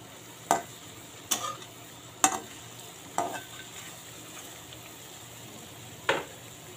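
Fried bora fritters being lifted out of hot oil, giving five sharp scraping clinks of a utensil spaced about a second apart over a faint steady sizzle, close and alone with no talking.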